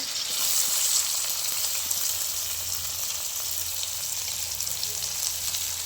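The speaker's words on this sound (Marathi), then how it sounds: "आता आपण तेल गरम करून घेतलेलं आहे आणि मिरची टाकणार आहोत" Green chilies drop into hot oil in a pan for masala Maggi noodles: a broad, steady hiss of frying sizzle fills the clip at moderate level, close by, with no talk over it.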